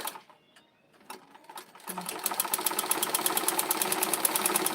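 A sewing machine stitches the half-inch seam allowance of a peplum blouse, starting after a quiet pause with a few light clicks, then running steadily with a fast, even mechanical rattle up close.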